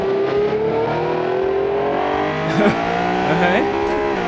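A car engine in BeamNG pulls hard in fourth gear, its tone climbing steadily as it accelerates, with brief sweeps and shifts in pitch near the end and a steady close-up drone throughout.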